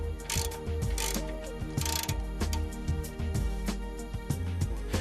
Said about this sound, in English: tightening the jam nuts.